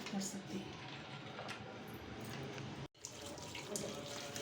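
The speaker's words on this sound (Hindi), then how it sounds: "ये बकेट का वाटर स्टोरेज टैंक है और इसमें मैं पानी स्टोर कर रही हूँ" Tap water runs steadily into the storage tank of a Milton Spot Zero Super Safai spin mop bucket, a continuous splashing rush that fills the whole moment with one brief break.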